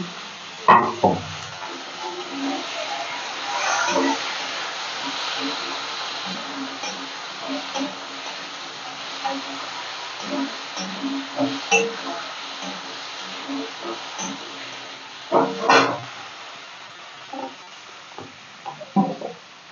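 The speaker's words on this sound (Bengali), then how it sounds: "এই পেঁয়াজ ঘষাটা দিয়ে দিলাম, আর অল্প একটু টমেটো দিয়ে দিলাম" Grated onion and tomato sizzle in a pan of fried potatoes, a low steady frying hiss broken by spoon scrapes and stirring clatter, with someone talking over it.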